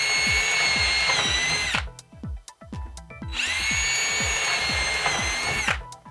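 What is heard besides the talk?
power drill drilling holes in wood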